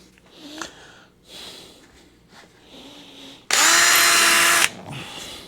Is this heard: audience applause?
no